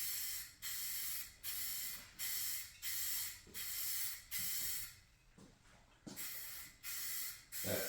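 Short bursts of a paint spray gun hiss in a regular rhythm of about ten passes as a coat is laid onto a GMC Sierra 1500 hood scoop, close and clear with no talking.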